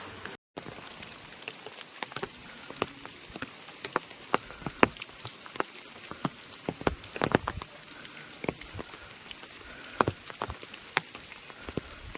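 Light, steady drizzle patters continuously on surfaces during a monsoon trek at Bhairavgad in the Sahyadri hills, with scattered sharper drops ticking nearby and no voices.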